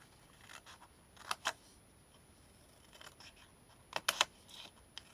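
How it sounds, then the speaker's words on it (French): Scissors snipping the sides of a cardboard scrapbooking box, a few sharp separated cuts in small clusters with quiet pauses between, close and fairly faint. "il nous faut une paire de ciseaux pour venir couper"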